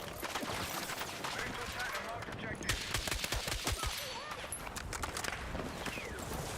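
Gunfire rattles in the video game Battlefield 6, with rapid automatic bursts and sharp shots running steadily throughout at moderate loudness, mixed with other battle noise.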